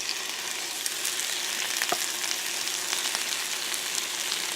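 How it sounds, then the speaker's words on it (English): Bamboo shoots stir-frying in olive oil in a frying pan give a dense, even, hissing sizzle close up, with faint ticks and one soft knock of stirring, no talk. "And I'm gonna stir fry the bamboo shoot and then add this later to my braised pork."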